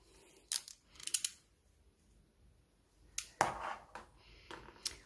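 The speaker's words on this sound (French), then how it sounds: "Ensuite, il va vous falloir des ciseaux cranteurs." Pinking shears cut through scrapbooking paper in a few separated bursts of sharp, crunchy snips, close up and with quiet pauses between them.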